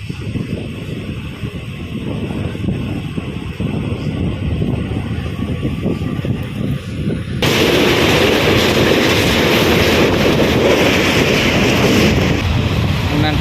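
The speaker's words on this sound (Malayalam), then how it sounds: "ആ സ്റ്റേഷനിൽ നിന്ന് കയറിയ ട്രെയിനിലാണ് മാംഗ്ലൂർ പോകുന്നതാണ്" A train ride toward Mangalore brings a dense rumbling roar with wind buffeting, which swells suddenly halfway through into a louder, brighter rush.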